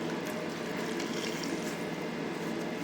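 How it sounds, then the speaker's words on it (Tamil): Bread soaked in water and squeezed out while making a sago-and-bread snack, heard as a steady, faint wet splashing and trickling of water throughout, with no voices. "இப்போ தண்ணியில் போட்டு நம்ம புழிஞ்சு எடுத்துட வேண்டியது தான்"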